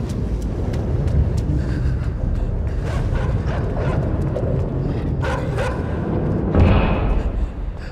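Dogs barking in the dark puzzle game Inside, sharp yips and barks scattered over a loud rumbling chase background, with a bigger burst of barking near the end and no talking.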